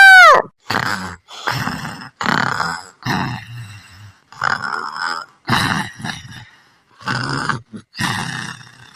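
Loud, close snorting grunts repeat in a steady rhythm, about nine rough breaths in a row with short gaps between them, like heavy snoring.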